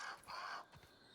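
In the video game Grounded, a crow gives a couple of short, harsh caws, faint and somewhat distant, with no talk over them.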